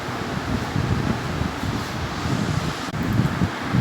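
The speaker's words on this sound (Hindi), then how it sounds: "वो पंखे की आवाज़ है।" An electric fan runs in a room on a hot day, giving a steady, loud, close whooshing roar with a faint rattle. No voices are heard over it.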